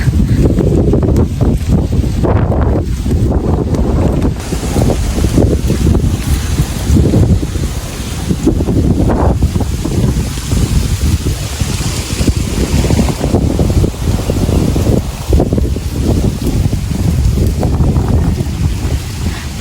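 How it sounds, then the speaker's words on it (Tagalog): Strong wind on a rooftop roars and buffets the microphone continuously, with gusting rumble and a steady rushing hiss throughout. "Oh, grabe po, mahangin po ngayon"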